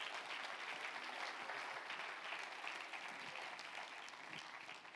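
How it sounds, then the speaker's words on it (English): A church congregation claps together during a faith sermon by Bishop Joe Forbush, forming a dense, steady wash of hand claps that stays loud and even for the whole stretch, with no voices on top. "Now clap your hands with faith and believe."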